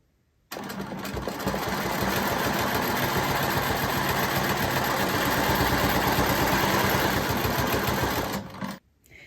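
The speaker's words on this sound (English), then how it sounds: "Let's quilt that." A sewing machine stitches quilting lines through layered fabric, its motor running in one steady, close, loud whir that starts abruptly and stops just before the end, with no talking.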